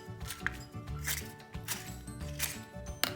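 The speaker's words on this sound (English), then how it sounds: "if you're comfortable using scissors, you can go around the edge like this and just make cuts" Scissors snip around the edge of a paper cupcake liner in a quick series of small, close cuts with light paper rustling.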